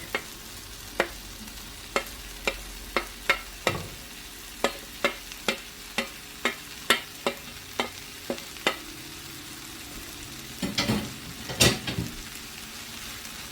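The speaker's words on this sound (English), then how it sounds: "We'll saute this until our onions are a little translucent." Onions and garlic saute in a pan for chili alongside softened peppers, with a soft background sizzle broken by a regular series of sharp clicks and taps from stirring, then a brief scraping flurry near the end, with no voices.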